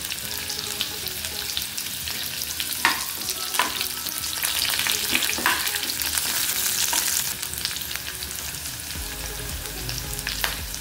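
Curry leaves and onions frying in oil for tiffin sambar, a constant close crackling sizzle with occasional sharper pops and stirring scrapes, no speech over it.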